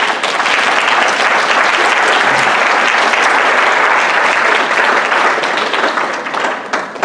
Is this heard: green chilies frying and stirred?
no